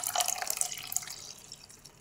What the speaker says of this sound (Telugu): 1 గ్లాస్ నీళ్లు పోసుకోవాలండి.